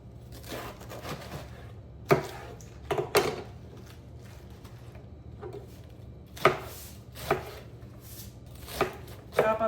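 A tiny head of lettuce chopped with a knife on a board, sharp crisp cuts coming in uneven clusters with pauses between, close and fairly quiet, no voices.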